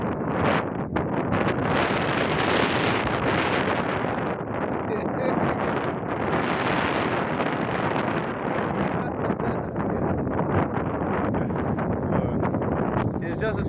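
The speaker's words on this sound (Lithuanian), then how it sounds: "Labai stiprus vėjas, tai ko gero sunkiai girdite, ką kalbu." Strong wind blasts a microphone on a beach at Prasonisi, Rhodes, roaring continuously and loudly with gusty surges, while a voice talks beneath it.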